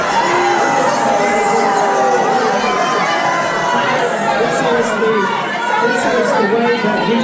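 A town hall crowd with a Republican politician, dense and loud, a sustained roar of many voices with shouts and jeering rising throughout, close and continuous.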